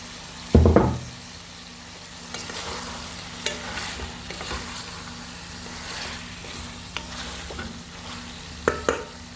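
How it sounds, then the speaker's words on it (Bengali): Brinjals frying in a pan with spice masala make a continuous close sizzle, broken by a sharp stirring knock at the start and several light scrapes and taps later, with no one speaking. "বেগুনও ভেজে নিচ্ছি।"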